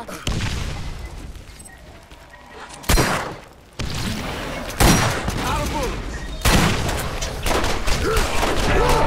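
Rockets fired in the video game Borderlands, heard as several heavy booming blasts in separate bursts over continuous battle noise, loud and close.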